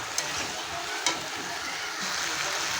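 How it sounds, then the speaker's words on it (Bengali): Malabar spinach with turmeric is stirred in a pan over a very low flame, giving a steady soft sizzle with a few light scrapes of the utensil. "হলুদ দিয়ে আমি ভালো করে নেড়ে নেব।"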